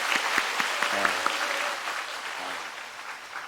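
A Korean church congregation at Sunday worship claps to welcome visiting elders, a dense round of applause with a few distinct nearby claps standing out, sustained at a fairly even level.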